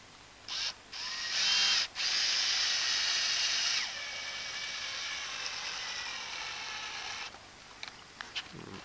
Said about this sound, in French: Vous prenez un embout Torx et vous vissez l'ensemble sur la paroi.